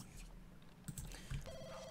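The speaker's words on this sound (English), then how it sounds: "someone is calling. Why don't we answer the phone?" A telephone rings in a video game, a faint electronic ring tone over a soft musical background, with a steady tone held toward the end.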